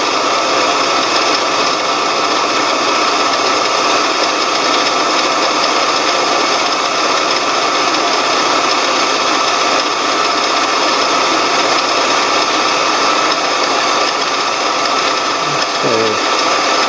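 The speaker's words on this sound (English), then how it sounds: "Seems to be drilling nicely." A power drill bores into an Onan CK fuel pump part, a loud continuous high-pitched whine and grinding drone that holds steady and close for the whole stretch.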